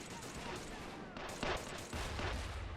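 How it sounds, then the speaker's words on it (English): British mortars firing during a large World War II hill-fort assault in a real-time strategy game, dull thumps and booms within a dense, continuous din of battle gunfire. "Oh, and the mortars are already firing."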